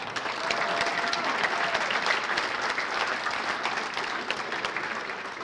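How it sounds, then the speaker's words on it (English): Audience at a high school athletic hall of fame induction ceremony applauding, a sustained burst of many hands clapping in a hall, steady throughout and slowly easing off. "You can applaud to that."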